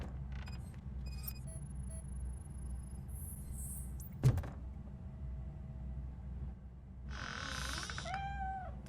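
A cat in the Robocop: Rogue City video game lets out a short meow-like cry near the end over a steady low background drone, with a sharp knock in the middle and no talking.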